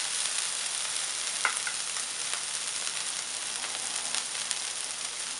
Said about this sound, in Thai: เราจะคั่วไปก่อนนะคะสักแป๊บหนึ่ง